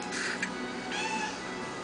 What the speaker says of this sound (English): Oh! Did you meow?